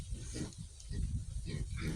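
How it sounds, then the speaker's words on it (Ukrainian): Farmyard piglets grunt and snuffle close by in low, rough bursts, with a voice talking faintly in the background. "Такі дворові свинки, поросятка."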